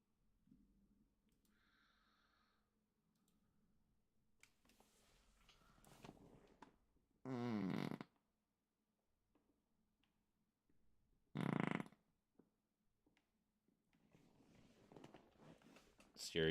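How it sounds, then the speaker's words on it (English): Two loud, sharp flatulent bursts, each about half a second to a second long, break through a quiet stretch of low chatter, with voices murmuring in the background before and after. "Serious farts are serious."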